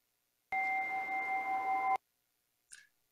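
A chime struck once during a Sunday church service rings out with a clear, steady, bell-like tone for about a second and a half, then cuts off, followed by a brief faint higher ping.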